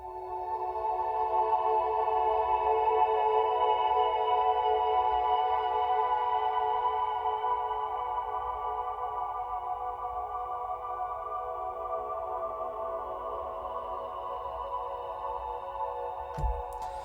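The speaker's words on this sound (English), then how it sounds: "another Chinese flute phrase run through the granular" A smeared, sustained breathy Chinese flute phrase processed through Omnisphere granular synthesis hangs in a shimmering cloud of texture, slowly thinning out, with a soft click near the end.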